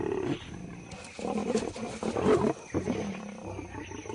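Lions roaring and snarling during an attack in the African savanna, involving white lionesses defending their young, with close, loud growling roars in bursts and a short quiet gap between them.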